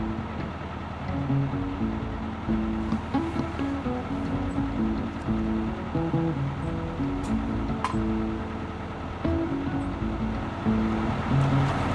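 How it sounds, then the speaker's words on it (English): Water rushes over the waterfall at a canal lock in London, a steady loud roar heard from a narrowboat, with low engine rumble and tonal sounds underneath and no talking. "That's the waterfall."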